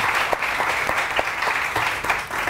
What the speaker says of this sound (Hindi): बहुत सारी तालियां डॉक्टर ईसा के लिए